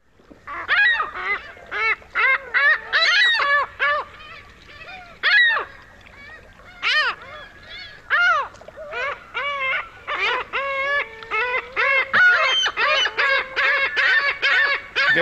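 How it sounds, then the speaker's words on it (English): Noisy ring-billed gulls call repeatedly, harsh squealing cries in rapid overlapping bursts, close and loud throughout. "Ring-billed gull."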